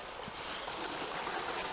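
A river flowing in the Welsh countryside, a steady close wash of moving water that holds even throughout the short stretch, with no voices.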